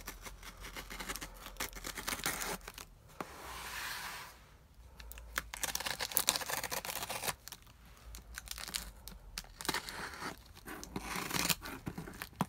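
Plastic wrap and packaging being torn open from a black goatskin Schuyler RSV Bible, with bursts of crinkling, ripping and crackling coming close and fairly loud, separated by short quieter pauses.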